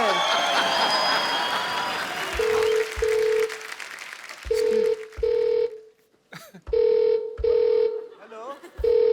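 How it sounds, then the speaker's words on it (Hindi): A mobile phone rings in repeated double-pulse electronic tones with short gaps between pairs, following a stretch of crowd noise and voices on a comedy show stage. "फोन आ रहा है"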